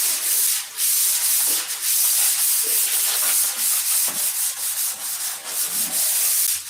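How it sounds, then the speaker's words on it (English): Continuous rasping strokes of sandpaper rubbed over a wooden P-47 model airplane fuselage, close and loud, in a repetitive back-and-forth rhythm with no voices. "Oh, I just love sanding."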